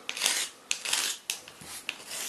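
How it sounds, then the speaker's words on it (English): A cheap diamond stone rasps against the wire of a homemade spinner bait to smooth off burrs. About half a dozen close, even scraping strokes repeat in a steady rhythm, with no talk. "I'm just using a cheap diamond stone just to smooth off"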